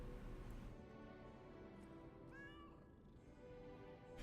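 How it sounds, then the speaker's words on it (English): A cat in the video game Lies of P meows while being petted, one short, soft meow in the middle of a quiet, faint game ambience with no talk. "Pet the kitty!"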